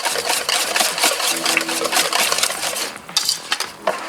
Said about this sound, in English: You want to whisk it good and make sure that oil is really dispersed in there.